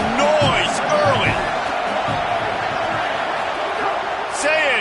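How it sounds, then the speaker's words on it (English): Stadium crowd roaring steadily at a Michigan vs Ohio State college football game, a loud continuous wash of cheering with occasional whoops rising above it and a commentator's voice talking over the din. "This crowd bringing the energy and noise early."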